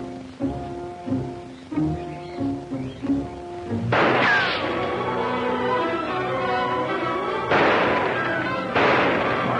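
Gun barrage in an old Navy adventure serial, with sharp, loud repeated shots that turn into a dense, sustained roar of fire and explosions.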